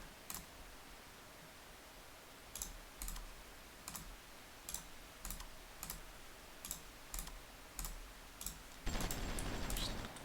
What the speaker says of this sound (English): Just clicking and clicking as fast as I can.